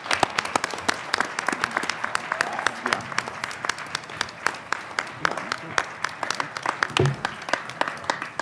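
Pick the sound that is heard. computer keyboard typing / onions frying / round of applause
round of applause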